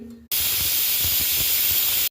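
A pressure cooker whistle releasing steam while vegetables cook: one loud, continuous hiss that starts abruptly and holds steady for nearly two seconds before cutting off.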